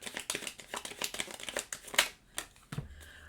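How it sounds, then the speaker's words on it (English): Tarot cards being shuffled by hand, a run of quick, close riffling and crinkling bursts that thin out into a few separate soft taps. "if you're wondering about all the shuffling, I only take cards that flip out"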